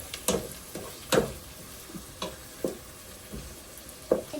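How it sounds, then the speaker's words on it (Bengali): Chopped onions fry in a pan for a chicken and cucumber curry, with a soft steady sizzle broken by sharp spatula scrapes and stirs about every half second to second, close and fairly quiet. "এটাকে আমি প্রথমে পেঁয়াজটাকে একটু ভাজি করে দেব"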